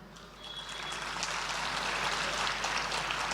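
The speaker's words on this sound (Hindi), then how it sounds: "भोपाल वालों, हाथ उठे गर ताली को तो ठोक दो ताली" An audience at an Urdu festival in Bhopal bursts into applause that quickly swells into steady, dense clapping. No voices are heard over it.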